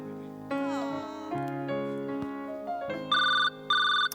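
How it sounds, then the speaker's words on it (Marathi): A telephone rings in a Marathi household comedy scene, with tonal electronic ringtone bursts beginning over a melodic music bed and then repeating in two loud, clear pulses near the end. "मरायला आत्ताच फोन करायचा असतो यांना."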